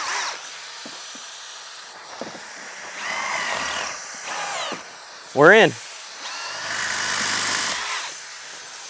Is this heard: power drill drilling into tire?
yes